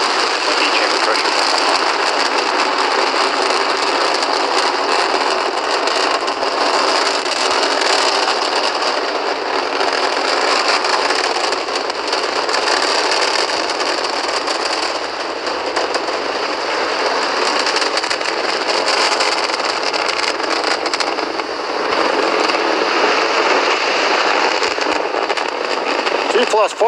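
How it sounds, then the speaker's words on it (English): A SpaceX Falcon 9 carrying a GPS III satellite climbs after liftoff, its Merlin engines producing a steady, dense, crackling roar with no gaps, heard through a broadcast feed while commentary voices run underneath. "We're powering down the Merlin engines to relieve the acceleration as we get ready for the period of maximum dynamic pressure"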